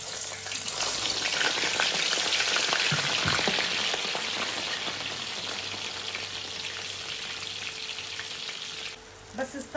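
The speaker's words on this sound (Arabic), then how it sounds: "بعد ما ملحت الباذنجانات هلا بقليهم بالزيت الحامي" Salted eggplant slices frying in hot oil, a steady dense sizzle and crackle that continues loudly throughout, with a brief dip near the end.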